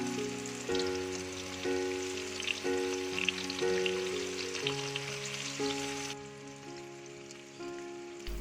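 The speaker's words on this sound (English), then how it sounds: "Put in the enoki and fry them until golden brown." Enoki mushrooms fry in a hot pan with a continuous crackling sizzle that stays close and steady. Background music plays underneath, and the sound cuts off abruptly near the end.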